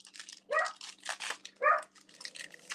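A dog indoors barking two sharp, close barks, reacting to squirrels outside, with quieter rustling and crinkling between them.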